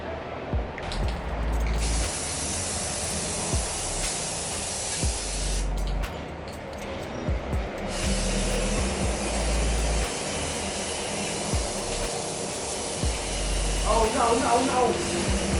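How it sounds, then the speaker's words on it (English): Aerosol spray paint hisses in long, loud bursts as a homemade sign is painted, with pauses between sprays, faint background noise and a person talking briefly. "I can't really see it, so I hope when I spray paint it,"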